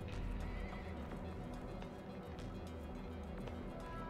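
Video game horse neighing loudly with a steady clip-clop of hooves running beneath, continuous over a dense, full sound bed.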